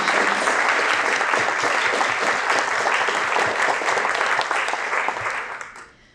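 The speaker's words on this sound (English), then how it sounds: "So if we can have a round of applause for all of those individuals and organizations." Audience applause for the organizers of a conference keynote event, a dense steady round of clapping from a full room that runs about six seconds before fading out at the end.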